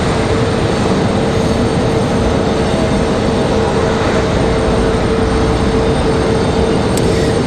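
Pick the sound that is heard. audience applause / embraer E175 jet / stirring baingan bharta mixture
embraer E175 jet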